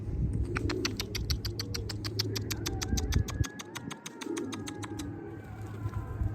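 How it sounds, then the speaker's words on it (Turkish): A pigeon flapping its wings in flight produces a fast train of sharp, evenly spaced wing claps that drift nearer and then fade away, heard over a steady low outdoor rumble. "İyi kanat sesi var."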